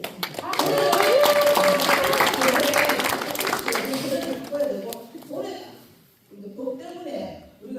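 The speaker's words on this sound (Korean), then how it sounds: "그런 점에서 여기 앉아 계시는 의원님께 박수 한번 드려야 되겠습니다" Audience at a public regional development meeting applauds, a dense burst of clapping that swells quickly and fades over several seconds before talk resumes.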